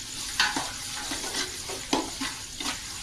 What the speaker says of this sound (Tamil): நீங்கள் வெங்காயம் போட்டதும் ஹை ஃப்ளேமில் வச்சு 3 நிமிஷம் வெங்காயத்தை வதக்கிடணும்